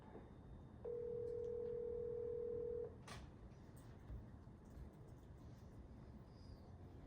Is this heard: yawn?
no